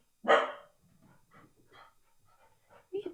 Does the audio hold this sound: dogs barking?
yes